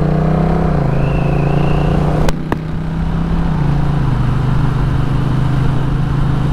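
A Honda Rebel 1100 cruiser fitted with a Coffman's Shorty exhaust idles and runs loud and close, a steady deep engine drone whose pitch shifts slightly, with two sharp clicks partway through.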